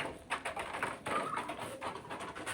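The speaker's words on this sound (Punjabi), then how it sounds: "ਖੋਲਣ ਲੱਗਿਆ ਕਬੂਤਰ" Soft pigeon coos and light fluttering against quiet outdoor background, a few brief bird calls scattered through.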